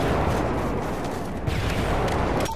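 Airstrike explosions in Call of Duty Modern Warfare 3 multiplayer on the Lockdown map, a dense continuous rumble of heavy blasts and booms that stays loud and near throughout.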